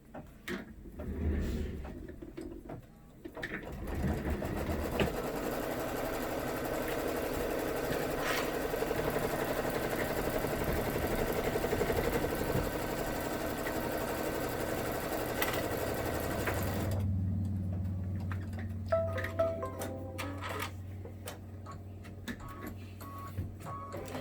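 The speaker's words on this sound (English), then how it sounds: "we're gonna hit start, and it's going to do a placement stitch" A computerized sewing machine runs a placement stitch on a fabric pocket project, its steady, close mechanical whir continuing for about seventeen seconds before stopping, followed by a lower hum and small clicks.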